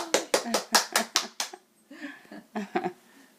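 A few people clap at home, about seven sharp, evenly spaced claps close by, followed by a short pause and a few scattered claps mixed with voices and light laughter.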